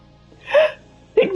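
A person sneezes twice in quick succession, a short breathy sneeze followed by a sharper one, close up in a quiet room with no talk.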